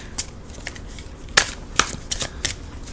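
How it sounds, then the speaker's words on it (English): Tarot cards being shuffled by hand, a few soft riffling bursts and sharp card snaps spaced irregularly, close up with quiet room tone between. "I can't shuffle tonight"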